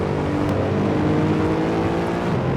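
Mercedes SLS race car engine in Assetto Corsa, a loud continuous roar with steady harmonic drone, heard close and alone with no talk.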